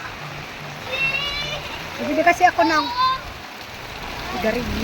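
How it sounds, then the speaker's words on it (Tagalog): Heavy rain pours steadily on an evening walk to the grocery, a broad wash of hiss under a person talking close by. "At anong lakas ng ulan."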